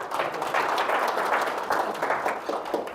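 Audience applause at a leadership lecture: a steady wash of many hands clapping in a hall, moderately loud and sustained with slight swells throughout.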